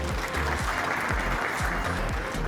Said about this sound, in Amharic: ለዚህም አንድ ጭብጨባ ያስፈልጋል።